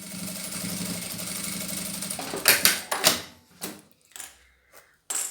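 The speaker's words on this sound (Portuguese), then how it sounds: "Vou passar um pé de máquina aqui." A sewing machine stitching a fabric bias binding on a small eyeglass case, a steady mechanical whir for a couple of seconds, then short clunks and bursts as it stops and the fabric is handled, close and quiet.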